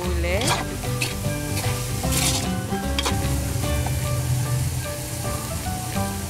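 Pork and pepper stirred in a sizzling frying pan, a steady loud crackle with scraping utensil strokes against the pan and faint tonal background sounds, no talk.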